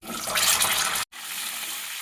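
Taro pieces frying in mustard oil give a loud, steady broadband sizzle, cut by a brief silent break near the middle before the hiss carries on a little softer.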